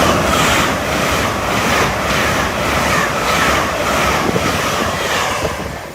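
A train rumbles at a railway station platform, a loud, steady broadband roar with wind buffeting the microphone throughout, no pauses.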